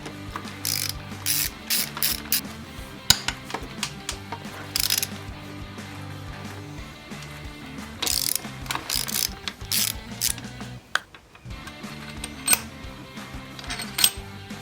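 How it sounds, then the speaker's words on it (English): Ratchet wrench clicking as 12mm cylinder head bolts are loosened on a 2015 Yamaha YZ250F during a top end rebuild, with bursts of rapid pawl ratcheting and occasional metallic clanks, close and clear with no talking. "Time to remove some 12mm cylinder head bolts."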